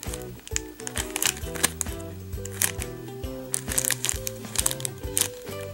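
Plastic packaging half pulled off a squishy toy, crinkling and crackling in repeated close bursts while being handled, with music playing steadily underneath.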